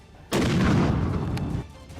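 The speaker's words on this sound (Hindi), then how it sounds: "उन्होंने ताबड़तोड़ इतने मोर्टर दागे" Single heavy boom of a mortar shell fired in battle in Yemen, a sudden loud blast with a rumbling tail lasting over a second before cutting off.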